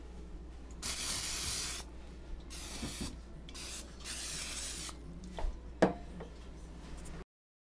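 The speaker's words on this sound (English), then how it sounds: "I'm going to give it a good spray with my butter spray" Butter spray from a can hisses onto phyllo dough in several close bursts, each lasting about a second, with faint rubbing and handling noises between them and a sharp tap near the end.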